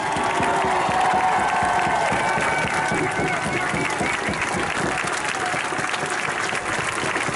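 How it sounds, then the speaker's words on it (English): A crowd at a street rally for justice for George Floyd applauds, a continuous loud roar of clapping mixed with cheering and shouts, steady for several seconds. "Let's give these ladies another round of applause."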